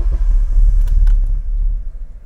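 A K24 engine cranks over with a low, rumbling churn, straining to fire without catching during a brief, loud burst close by.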